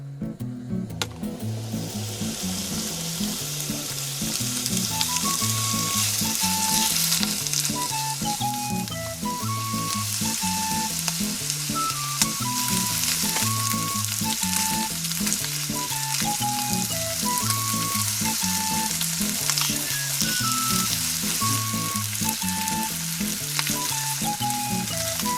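Chicken pieces frying and sizzling in a pan over a camp stove, a steady loud crackle that runs continuously without pause.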